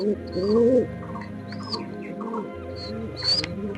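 Laldum pigeon chicks about seventeen or eighteen days old give soft close chirps and coos, with thin high squeaks scattered through a low background hum.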